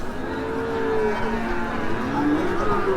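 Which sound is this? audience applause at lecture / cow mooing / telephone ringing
cow mooing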